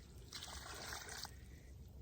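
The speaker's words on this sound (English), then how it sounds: "So we're going to add a little more water" Water poured into seed starting mix, a short faint trickle and splash lasting about a second, alone without talk.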